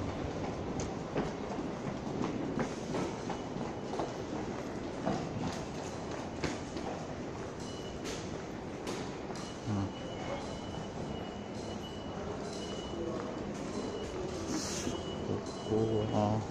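Tokyo Metro Ginza Line subway train rumbling and clattering through a station, wheels squealing and rattling steadily at moderate distance, with faint voices around.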